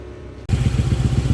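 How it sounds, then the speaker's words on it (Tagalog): A Honda Click scooter engine with a newly fitted radiator starts up after a short lull and runs at a loud, close, steady putter with a rapid, slightly uneven pulse. "Bali na andar na yung motor ni Bossing na click."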